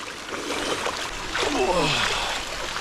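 Water splashes and sloshes as someone climbs out of a natural hot spring in an Alaskan rainforest, a steady close wash of movement through the pool with a voice heard over it.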